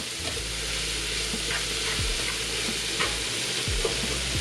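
Greens cooking in a pan on medium heat, a dense, even sizzle with a few soft knocks of a utensil, close and steady with no voices.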